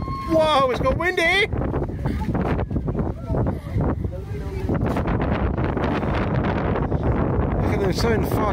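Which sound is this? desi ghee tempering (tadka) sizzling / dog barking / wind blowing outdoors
wind blowing outdoors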